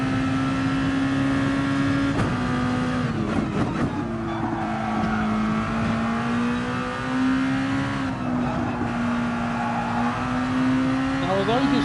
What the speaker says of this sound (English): there's quite a bit of tyre noise coming